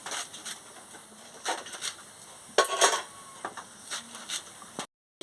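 Kitchen knife chopping vegetables on a board for a home-style Bengali vegetable dish, a series of close, sharp irregular taps and clacks, with a few louder clustered strikes mid-way and no talking.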